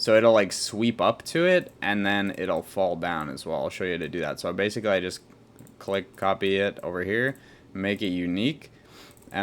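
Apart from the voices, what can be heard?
No everyday noise stands out behind the speech.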